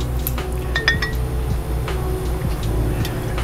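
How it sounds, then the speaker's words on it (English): Bulleit rye poured as a single shot into a glass while making an Old Fashioned, with sharp glass clinks and small knocks over a steady low room hum, close and moderately loud. "Pour one shot directly in."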